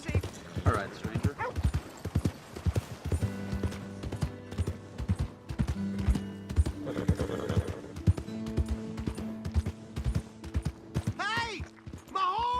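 Horse hooves clip-clopping in the Western video game Red Dead Redemption 2, a steady run of close hoofbeats with occasional whinnies, mixed with game voices speaking over the top.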